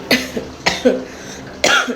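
Three sharp coughs from a nearby person, spaced unevenly, each a short harsh burst with no talking.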